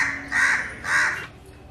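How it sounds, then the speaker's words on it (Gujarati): A crow gives two loud, harsh caws in quick succession, close by and alone. "તમારો કાગડો બોલે એ સાંભળ્યું"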